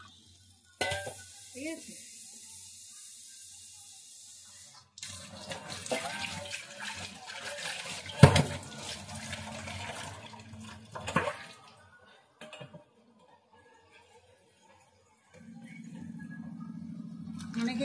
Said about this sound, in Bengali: তুলে নিয়ে আমি এই জলটা আর তেঁতুলের জলটা এর মধ্যে দিয়ে দিলাম।